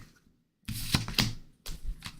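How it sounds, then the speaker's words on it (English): A deck of tarot cards is shuffled up close in a few quick riffling bursts. A short burst comes first, then a second after a brief pause, and nobody speaks. "I said bottom of the deck and then I started shuffling."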